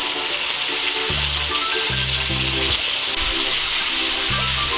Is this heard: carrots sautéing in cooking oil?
yes